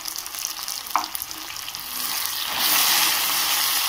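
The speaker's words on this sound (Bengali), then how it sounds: "এবার আমি এগুলিকে ভালো করে ভেজে নেব" Elephant apple pieces frying in a pan with salt and turmeric, a crackling sizzle with a few stirring scrapes that swells into a louder, fuller hiss near the end; no voices.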